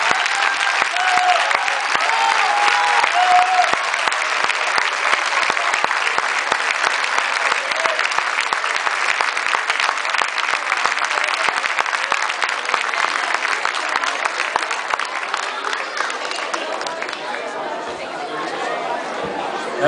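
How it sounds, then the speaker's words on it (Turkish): A crowd at a Karadeniz night event applauds loudly and continuously for about twenty seconds, dense clapping mixed with chatter, easing slightly near the end. "Çiçeğini vermesi için kocaman bir alkış alabilir miyiz?"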